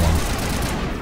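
Brief, loud burst of automatic weapon fire from shooting Geth Stalkers in Mass Effect Legendary Edition, a rapid rattle of shots that fills about a second and then fades.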